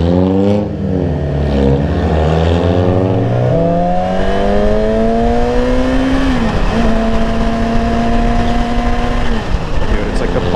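A motorcycle engine revving hard past 6,000 rpm, recorded up close on the moving bike: a loud, buzzy tone climbs in pitch, holds high with slight dips, then climbs again over wind rush.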